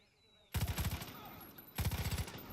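Gunfire in the video game Far Cry 5: two loud bursts of rapid automatic shots, the first running about a second and a quarter and the second starting after a short pause, over a faint background.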